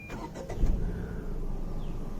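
A Tata Punch engine cranks briefly with a short starter whirr, catches, and settles into a steady, low, close idle.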